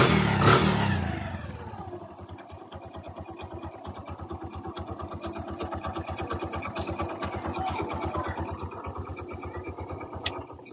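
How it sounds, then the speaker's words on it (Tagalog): A Kawasaki Bajaj CT 100 motorcycle engine with a freshly replaced timing chain idles steadily up close, a smooth, even putter with a brief louder rev at the start and no voices. "Balik brand new na ang tunog ng kanyang makina, guys."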